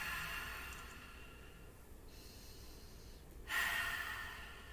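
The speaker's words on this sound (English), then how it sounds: "Now the Ujjayi breath, the victorious breath. It's simply an audible breath." Audible Ujjayi yogic breathing during a pranayama exercise, a steady breathy hiss that swells into a louder, fuller inhalation near the end, with no talking.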